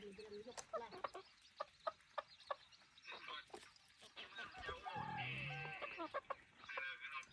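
A decoy rooster calls close by in a series of sharp clucks and crowing bursts, ending in a longer drawn-out crow, with faint talk in the background.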